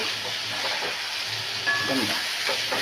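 Curry leaves dropped into hot oil for a mixed vegetable thoran of taro and beans, giving a steady close sizzle and crackle with faint stirring and no talk.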